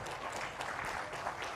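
A conference audience gives a brief burst of clapping as Dr Rajesh Garg comes up on stage, fairly soft and even throughout.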